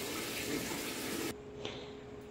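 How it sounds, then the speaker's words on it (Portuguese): Water pours steadily from a tap into a large batch of homemade liquid soap, a loud, even rush that cuts off abruptly partway through, leaving a faint residual trickle and hum. "Vou colocar o restante, que é mais 8 litros de água."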